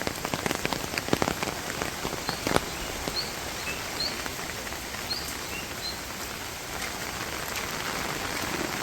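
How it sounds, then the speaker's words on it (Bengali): Light rain falls outdoors as a dense, steady patter of drops on surfaces, with a few faint bird calls in the distance and no one talking. "একদম অল্প মাত্রায় বৃষ্টি হয়ে গেল।"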